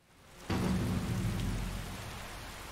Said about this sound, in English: still raining outside,